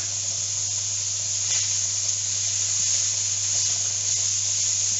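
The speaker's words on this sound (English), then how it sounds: "pancetta is sizzling." Pancetta frying in a pan while carbonara is cooked, giving a steady, continuous hiss of sizzling fat with a constant low hum underneath and no talk.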